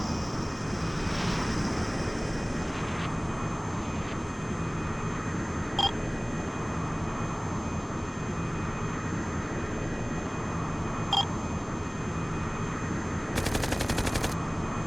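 Aircraft machine-gun fire in a video game, a steady droning engine bed with faint electronic beeps and a short burst of rapid firing near the end, fairly quiet overall.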